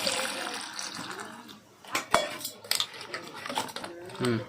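Splashing water and clinks against a plate or bowl as chillies are rinsed, with irregular knocks and a quiet stretch in between.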